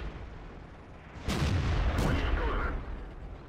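A tank gun round strikes a Churchill tank in World of Tanks, a pair of heavy booming impacts about a second apart over a low rumbling battlefield background.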